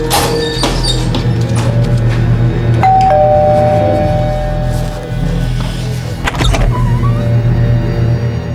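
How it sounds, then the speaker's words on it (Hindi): A doorbell chimes several times, with a clear electronic ding-dong pattern partway through, over a steady low hum of background traffic outside a residence. "प्रीति जी का घंटी बजाने के लिए मिलेगा"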